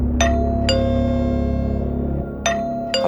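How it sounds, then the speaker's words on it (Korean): A ding-dong doorbell rings out inside a small rented room, two bright chimes followed by a repeat of the pair after a pause, clear and close over a low steady hum. "갑자기 초인종이 울려."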